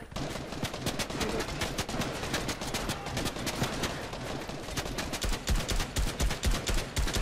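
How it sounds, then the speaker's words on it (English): Rapid bursts of automatic gunfire in a Fortnite Battle Royale match, rattling continuously and densely from start to finish, growing heavier and more punchy near the end, with no voices. "You're just shooting through our own wall."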